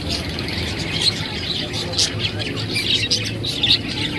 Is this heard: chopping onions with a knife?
no